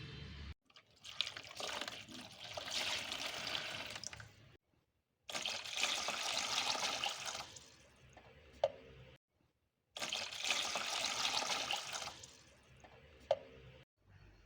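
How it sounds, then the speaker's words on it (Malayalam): Water pours into a guppy breeding tank in three long bursts of splashing and trickling, separated by short silent pauses, with a few sharp drips or knocks, fairly faint and with no voices. "നമുക്ക് ടാങ്കിൽ വെള്ളം നിറച്ച് കൊടുക്കാം."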